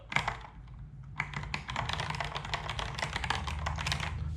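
Close, continuous typing on a Kinesis Advantage2 ergonomic keyboard, a dense, loud patter of hollow-sounding keystrokes that grows busier after a brief lighter start.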